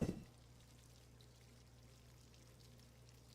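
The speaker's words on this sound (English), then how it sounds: "What is that noise? Sounds like running water." Running water in the horror video game Death Mark 2, a faint steady hiss and low hum that continues evenly after a brief louder onset.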